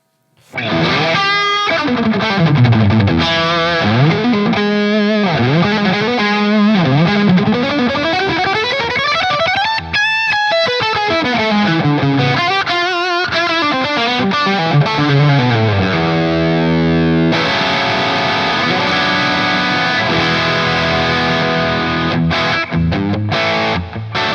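A heavily overdriven electric guitar plays through a Dophix Michelangelo Overdrive Plus pedal with the boost turned fully up: loud, saturated riffs and sustained chords, with thick distortion filling the whole passage without pause.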